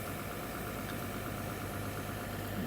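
A steady engine idles continuously on an irrigation pump that drives water through a self-flushing drum filter with fine mesh while potatoes are watered, a constant low rumble with no talk.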